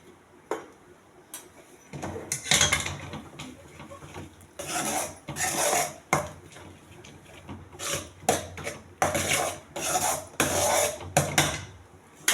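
A spoon scrapes and clatters in a pan as nuts halwa is stirred with milk, giving irregular bursts of metallic scraping and knocking, fairly close, with short pauses between strokes.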